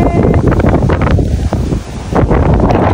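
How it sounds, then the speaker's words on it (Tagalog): Strong wind buffeting the microphone at a mountain view deck along a road at KM77, with rain, a steady loud roar with gusty swells and no talk. "Malakas lang talaga yung hangin ngayon at may kasamang ulan"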